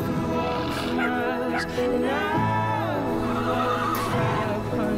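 A horse whinnies with long, wavering neighs that rise and fall, heard close and loud, with a smaller animal and a faint hoof clop mixed in; no talk over it.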